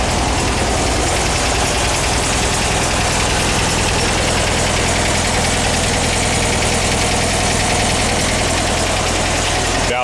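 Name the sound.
VW double cab engine idling after install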